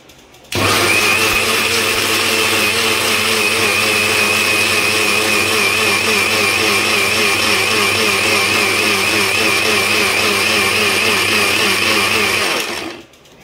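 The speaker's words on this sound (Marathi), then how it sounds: "आता आपण हा गर व्यवस्थित असं मिक्सरवर फिरवून घेऊया।" A kitchen mixer grinder blends ripe mango pulp for kulfi, a loud steady motor whine with a churning, wobbling texture that starts abruptly, runs unbroken for about twelve seconds and then cuts off, with no voices.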